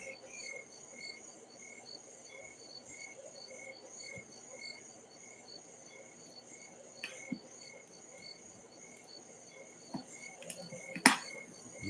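Crickets chirp steadily on a summer night, a dense pulsing chorus held at a soft, even level, with a few faint clicks and taps near the end and no voices.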